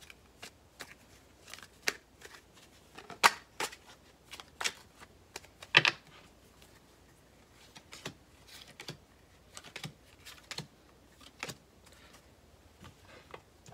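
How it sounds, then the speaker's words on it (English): Tarot cards are shuffled and drawn in soft, close snaps and flicks, scattered irregularly against a quiet room. "we're going to draw our last five cards."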